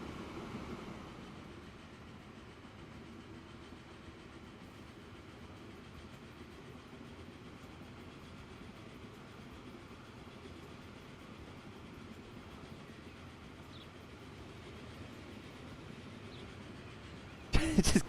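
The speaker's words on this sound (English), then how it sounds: "It just cuts up a passenger train." Passenger train rolling past on a multi-track line in Transport Fever 2, a steady close rumble of wheels and carriages that holds throughout, with a sharper burst of noise in the final moment.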